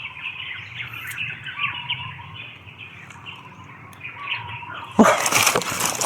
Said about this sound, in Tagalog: daming uwak.